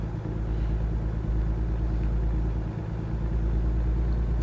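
A low-powered truck engine in American Truck Simulator rumbles steadily at close range, a constant deep drone that swells slightly toward the end, with no voices.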